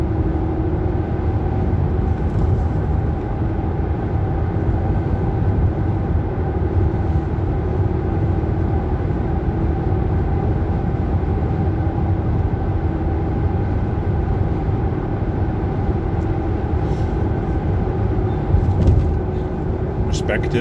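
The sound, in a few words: car driving through empty city streets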